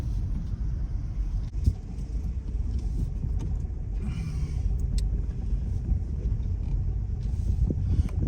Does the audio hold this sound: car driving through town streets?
yes